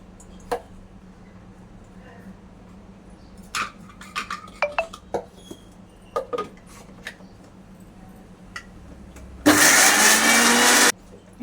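A mixer grinder blending chopped taro (kochu) roars on loudly for about a second and a half near the end, following scattered quiet kitchen knocks and clinks.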